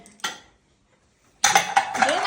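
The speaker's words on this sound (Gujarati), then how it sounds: "વાસણ ગોઠવાનું કોમ આવ્યું" Ceramic and metal dishes, pots and a pressure cooker clink and clatter as they are set down, a brief knock followed by a pause, then several rattling clanks close by.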